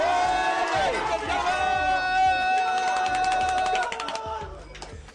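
Crowd at a poker tournament high roller event erupting in loud cheering and whooping, sustained for several seconds before easing off, with a single voiced exclamation at the start.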